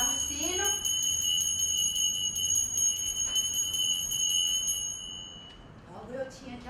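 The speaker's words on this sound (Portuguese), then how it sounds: "Mas Sinhá tocava o sino" A bell rung as a summoning signal gives a steady, sustained bright ringing tone that holds for about five seconds and then fades, with a voice speaking briefly at the start and end.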